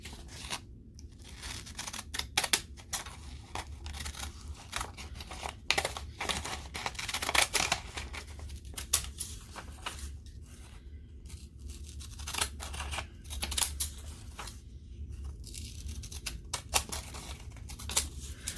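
Quiet, repeated snips of scissors cutting through paper, close by, in an irregular rhythm with short pauses and no talking.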